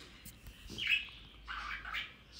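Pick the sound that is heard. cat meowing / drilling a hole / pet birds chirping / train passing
pet birds chirping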